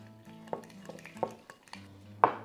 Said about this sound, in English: Now let's mix this bad boy up